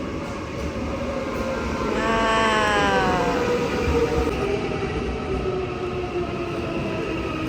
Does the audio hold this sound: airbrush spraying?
no